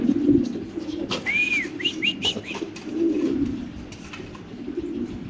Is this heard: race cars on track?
no